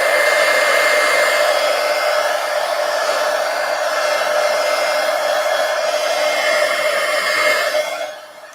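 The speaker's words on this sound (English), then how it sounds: "let me hit it with the heat gun just to make sure here" A heat gun blowing hot air over a coloring page gives a steady, close, loud whooshing drone with a fan whine that holds for about eight seconds, then winds down.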